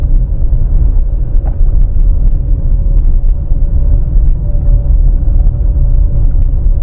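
Honda CR-V Black Edition front-wheel-drive car climbing a steep incline, a loud, steady low engine rumble with road and wind noise heard from inside the cabin, no talking.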